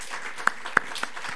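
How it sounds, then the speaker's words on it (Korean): A few scattered claps from a church congregation during a Sunday service, quiet and sparse, with three distinct hand claps standing out over a faint room background. "우리 이 시간에 어제 그렇게 모두 수고한 분들을 위해서 서로 한번 감사와 격려의 박수를"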